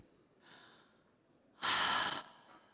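An audience at a talk takes a collective deep breath, a soft inhale followed by a louder, broad rushing exhale that lasts about half a second, with no voices over it.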